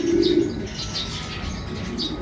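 A racing pigeon cooing softly in a loft nearby, low throaty calls with a few faint chirps, steady over a short stretch.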